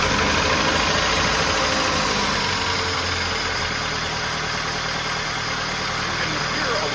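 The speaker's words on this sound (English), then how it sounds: "hear a little bit of noise when it first started up." A Dodge Dakota engine with worn lash adjusters, once seized and freed, idles steadily and loudly with a constant rough mechanical clatter for the whole stretch. A voice speaks over it.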